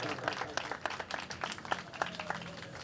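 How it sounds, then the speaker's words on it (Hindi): A church congregation in Green Town, Lahore gives a round of applause to welcome a preacher, uneven crowd clapping with sharp individual claps standing out, moderately distant and somewhat faint. "जोरदार तालियां बजा दें, जोरदार"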